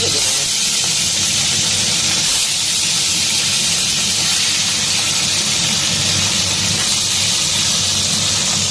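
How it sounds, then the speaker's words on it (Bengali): Bay leaf, dried red chilli, cumin and nigella seeds tempering in hot oil for a Bengali bata fish curry, giving a steady, loud broadband hiss and sizzle that runs unbroken throughout. "তেজপাতা, শুকনো লঙ্কা, জিরে, কালো জিরে ফোড়ন দিয়ে মাছটাকে ভেজে নেব।"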